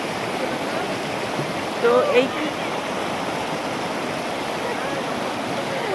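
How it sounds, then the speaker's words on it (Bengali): Water from a stream near Tabakoshi flows as a steady, full rushing wash that fills the whole clip, with one short spoken word over it. "তো এইখানে জলটাও ভীষণ সুন্দর, মানে বয়ে যাচ্ছে"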